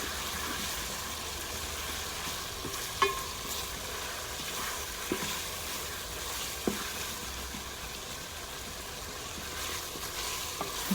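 Beef being stirred as it fries in a pan for pilau, a steady close sizzle with occasional scrape and clack of the spoon against the pan.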